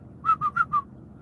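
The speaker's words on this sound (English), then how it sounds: "we have a family whistle" A person whistling a family signal, four short, evenly spaced clear notes in quick succession, close and alone.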